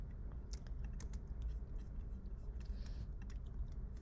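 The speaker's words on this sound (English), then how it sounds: "I will just type it this way." Java code typed on a computer keyboard: quiet, irregular key clicks in quick bursts, faint and close, over a low background hum with no speech.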